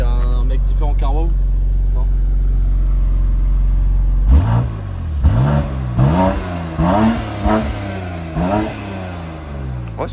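A BMW X3 M Competition with Stage 1 tuning starts up and revs, a loud engine bark followed by several sharp rising revs, with talk inside the car over steady idle hum.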